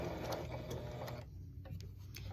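A sewing machine stitches a quarter-inch seam in a quiet, steady mechanical whirr with faint needle clicks, briefly easing before running again, close and low in level.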